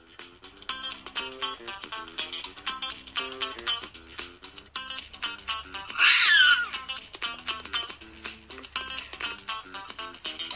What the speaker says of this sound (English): Stop it, you cat.